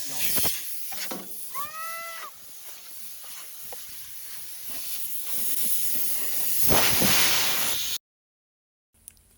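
Compressed air hisses loudly from a homemade valve tool fitted in a spark plug hole on a Ferguson TE-20 tractor, a steady broadband rush swelling toward the end before cutting off abruptly, with a few brief squeaks early on.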